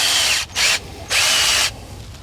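A half-inch drill boring a hole to install a fence post whines in three loud bursts, with short pauses between them as the trigger is released, close and with no talking.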